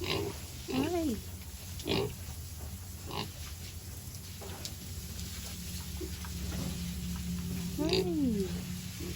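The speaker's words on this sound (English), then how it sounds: "So there you have it, our little piglets." Piglets on a farm in Jamaica grunt and give squealing oinks while being fed. Brief cries come early and again near the end, over a steady low background rumble.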